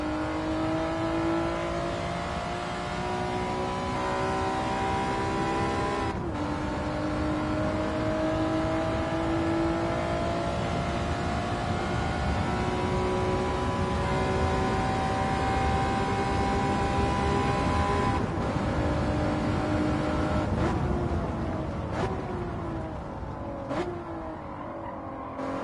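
A Honda NSX at Interlagos in Gran Turismo 7 with its engine note climbing steadily under power, dropping sharply at each upshift before winding up again, loud and continuous throughout.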